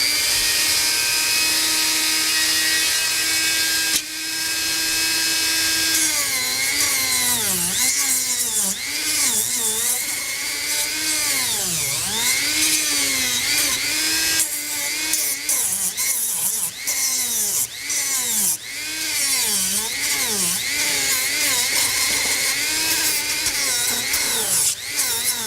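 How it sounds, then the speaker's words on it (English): A Dremel rotary tool runs loud and steady for the whole stretch during fairing repair on a Bimota motorcycle, its whine dipping and rising in repeated swoops as it bears into the work, with a brief pause near the start. "Now, the Dremel"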